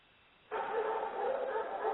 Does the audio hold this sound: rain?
no